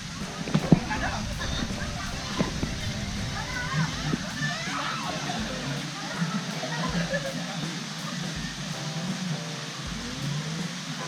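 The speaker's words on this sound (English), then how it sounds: "So this is the place where we do the water purification." Spring water pours and splashes continuously into the purification pool at Tirtha Empul Temple in Bali, a steady close wash of running fountains with people talking over it.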